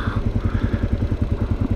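A motorcycle engine idles close by with a low, rapid, even chugging pulse and a slight clattering texture, with no voices over it.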